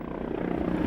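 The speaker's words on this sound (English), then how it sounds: "Rob, who is in control of the helicopter in winds reaching over 80 kilometers an hour, is going to try everything to land." A helicopter flies in strong winds over 80 km/h near Skerryvore lighthouse on an exposed stretch of coast, its rotor and engine a continuous low droning rumble with wind noise, steady and fairly loud.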